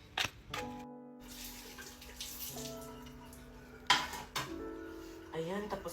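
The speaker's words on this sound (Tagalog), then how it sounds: "Ayan, tapos na rin ako maghugas ng pinggan." Plates and cutlery clink and clatter in a kitchen sink during dishwashing, with a few sharp knocks and scrapes close by, while soft music-like tones hold underneath.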